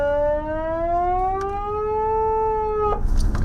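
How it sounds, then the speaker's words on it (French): A civil defense alarm siren sounds during a federal test, one long rising wail that holds a steady tone, then cuts off abruptly near the end into background noise. "Ceci est un test fédéral des sirènes d'alarme."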